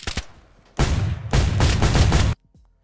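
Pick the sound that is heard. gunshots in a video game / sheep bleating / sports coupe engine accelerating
gunshots in a video game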